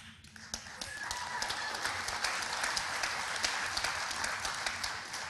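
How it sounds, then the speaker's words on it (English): Light, scattered applause from an audience at a closing keynote event, a thin steady patter of claps with no voices over it. "Light applause for the truth."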